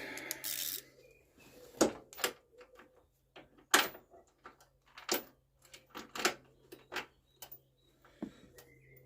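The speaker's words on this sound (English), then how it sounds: "we've got our 13mm socket ratchet" A 13mm socket ratchet works on a John Deere 115 ride-on mower during an engine change, giving sharp, irregular clicks and metallic knocks with quiet gaps between bursts, close up.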